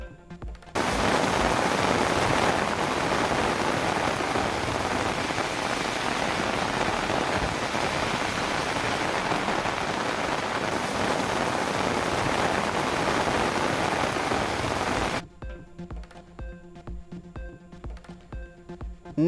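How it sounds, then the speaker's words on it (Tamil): Steady, dense rain falls across Tamil Nadu districts, a loud continuous hiss for about fifteen seconds before cutting off abruptly. "தமிழ்நாட்டில் பல்வேறு மாவட்டங்களில் பரவலாக மழை"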